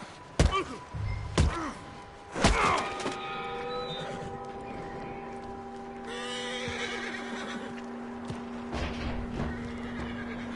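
A horse in the video game Red Dead Redemption 2 neighs loudly, then heavy clip-clop thuds land in a few bursts, followed by a long ringing tone and softer rustling.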